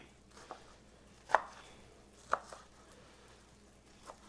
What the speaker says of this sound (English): And there's my onions. Okay. Here I'm going to cut them in half.